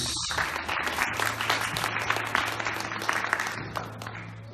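Sustained applause from a large crowd at a Catholic religious gathering, dense and steady clapping that fills the whole stretch, with a low hum running underneath.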